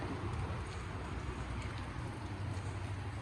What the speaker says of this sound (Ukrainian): Дощик є, але він такий маленький